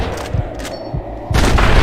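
Gunshots in the Western game Red Dead Redemption, several loud close bangs in quick succession, a short gap, then a heavier burst of fire to the end.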